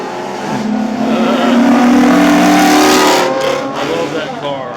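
A car engine revs and races past, the loud roar swelling to a peak mid-clip and then easing off.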